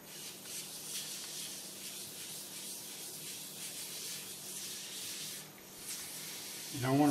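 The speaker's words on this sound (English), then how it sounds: "Now you're basically just sanding it with a fine sandpaper." Steady, even rubbing and scraping of fine sandpaper working a turned bowl, a continuous soft hiss with a slight rhythmic back-and-forth, close by.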